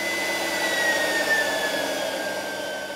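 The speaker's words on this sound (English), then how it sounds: "This isn't your everyday domestic vacuum cleaner." A low-power conservation vacuum cleaner fitted with a fine nylon-mesh nozzle, used for surface cleaning: a steady, close whirring hum with a thin high whine that holds even throughout.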